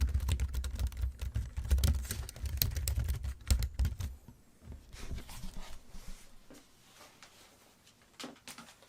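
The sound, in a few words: typing on Logitech K780 computer keyboard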